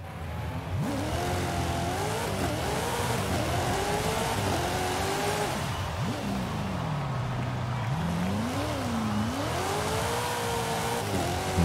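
Car engine in the racing video game Forza Horizon 5 during multiplayer, a loud continuous engine note rising and falling through repeated revs and gear shifts.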